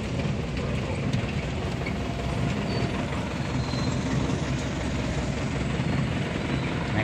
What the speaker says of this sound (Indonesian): Naik odong-odong.